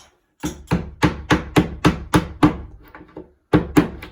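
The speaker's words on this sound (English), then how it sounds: "You can knock it in with a piece of wood. Knock that in flush first." A door latch being knocked flush into the edge of an interior door with a piece of wood, a run of about nine sharp, evenly paced thuds, a short pause, then two more, close and loud.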